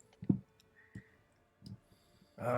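Someone imitates a horse galloping with mouth clicks during a fantasy tabletop role-playing session: a few sparse, dry clicks spaced apart, then a louder noisy burst at the end.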